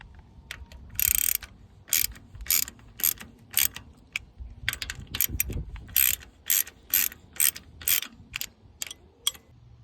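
A ratchet with an 11/16 socket tightening bolts on a 1953 Ford Jubilee tractor, giving many quick, sharp clicking bursts in an irregular rhythm, close up and alone.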